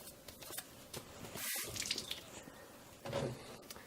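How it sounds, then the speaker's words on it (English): Lab plates getting a final rinse under running tap water, a close splashing and trickling stream with drips and a brief pause partway through. "And I want to do just a final rinse."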